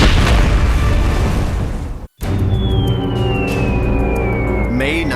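A dam-busting bomb test explodes in a loud, sustained roaring blast that cuts off abruptly, then a rumbling aftermath with a falling whistle-like tone follows.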